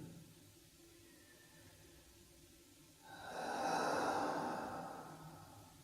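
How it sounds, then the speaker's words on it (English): A deep, slow breath during a TRE tension-release exercise, drawn in as a broad airy rush that swells and fades, close and alone. "Continue breathing deep."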